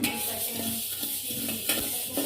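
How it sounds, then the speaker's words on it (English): Mustard seeds dry-roasting in a pan to draw out moisture before grinding, with a steady soft sizzle, light crackle and occasional scrape and clink of a utensil stirring them against the metal. "Now we are going to roast the mustard seeds to remove the moisture and get ready to be grind."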